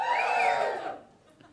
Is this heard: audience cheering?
yes